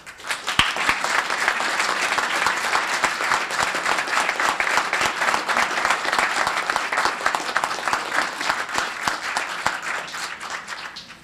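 Town council chamber audience applauds after a unanimous vote, a steady round of many hands clapping that swells and holds for about ten seconds before tapering off.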